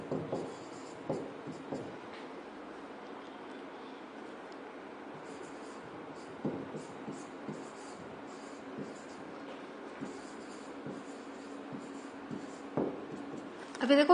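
A teacher writes on a board in a grammar lesson, making scattered scratchy strokes and taps at moderate distance, with long quiet stretches and faint room noise between the marks.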